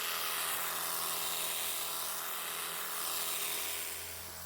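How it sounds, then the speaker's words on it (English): An electric hedge cutter trims a box hedge with a steady, close buzzing drone that continues throughout with slight rises and dips as it works along the hedge. "keep the hedge cutter on the hedge all the time"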